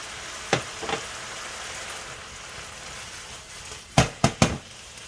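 Oil sizzles steadily in a pan as bacon and string beans are stir-fried with added sesame oil, a continuous hiss broken by a few sharp louder crackles and bursts near the end, no voices.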